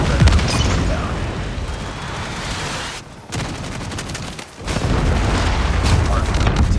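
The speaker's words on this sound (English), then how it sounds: "Be advised, hostile Predator missile inbound." Call of Duty Mobile battle sounds with loud continuous gunfire and heavy booms rumbling throughout, broken by two brief drops before the firing resumes, with voices under the noise.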